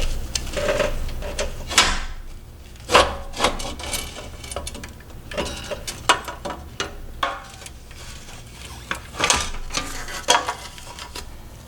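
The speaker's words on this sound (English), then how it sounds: "lift this radiator off just a tad bit so that we can shimmy that fan out of there" A radiator in a Mitsubishi Evo 9 is lifted slightly while the stock fan is slid out, giving close scraping, knocking and clicking of plastic and metal parts in irregular bursts, without talking.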